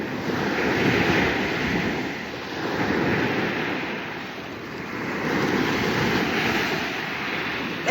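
Waves washing onto a beach, a continuous rolling surf roar swelling and easing in slow surges, mixed with buffeting wind on the microphone.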